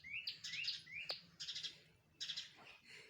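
A sparrow guarding its nest gives short, bright chirps and tweets in quick bursts, close but quiet against a faint low background hum, with no talk.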